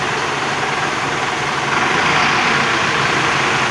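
A Mercedes-Benz Atego 1317 truck engine idling while lifting a six-tonne load of corn, producing a loud, steady, broadband rumble close by with no pauses and no speech.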